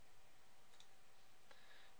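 Two faint, sharp computer mouse clicks on an on-screen button, spaced under a second apart, sit over a quiet steady room hiss during spreadsheet accounting software work.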